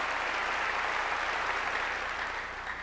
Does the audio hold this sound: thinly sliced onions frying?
no